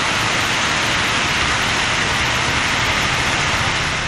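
Heavy rain driven by strong wind pours steadily in Tamil Nadu's Nannilam area, a dense, unbroken wash of hiss and low rumble that stays loud and even throughout with no voices.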